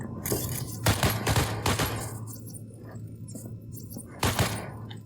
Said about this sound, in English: there's a thing down here that's a shooting range